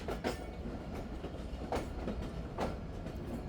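Rehman Express train rolling into platform 2 at Hyderabad Junction, steady rumble of rail cars with periodic clickety-clack wheel beats at a moderate distance, no voices.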